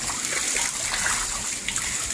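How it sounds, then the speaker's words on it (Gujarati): Water is poured onto garden plants, including mint, in a continuous close splashing stream that stays loud and steady throughout. "ચાલો પાણી નાખી દઈએ બધાને."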